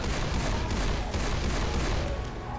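Magnum pistol gunfire in the zombie shooter Left 4 Dead 2, loud and continuous with overlapping shots and game noise, no talking.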